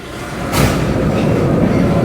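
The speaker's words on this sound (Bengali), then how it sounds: "শেষ হয়ে গেল আমাদের স্কাই ট্রেন রাইডটা" An amusement park sky train ride at Dream Holiday Park rumbles steadily, loud and close, with a continuous rolling clatter that swells slightly after the first half-second.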